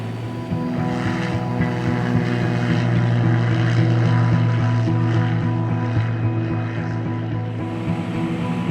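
A Portland Police Air Support aircraft takes off from runway 35, its engine and propeller giving a steady, loud, tonal drone that holds throughout.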